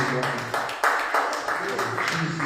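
A church congregation claps in a steady rhythm while voices sing or speak over the beat, close and fairly loud.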